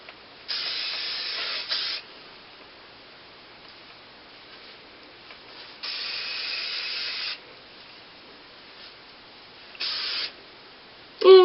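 Hair spray hisses onto flat-iron curls in three separate bursts, two long and one short, each close and fairly loud, with quiet pauses between.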